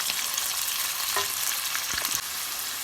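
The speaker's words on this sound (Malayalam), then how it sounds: "ഇരുന്നൂറ് gram chicken ബ്രസ്റ്റിൻ്റെ pieces chicken piece ഞാൻ കട്ട് ചെയ്ത് വെച്ചിട്ടുണ്ട് അതിട്ട് കൊടുക്കാം" Chicken breast pieces fry in a pan with ginger garlic paste, a steady loud sizzle with a few stirring scrapes, close up and without talk.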